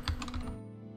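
A few quick keystrokes tap on a computer keyboard indoors, close and light, clustered in the first half second before fading into quiet room tone.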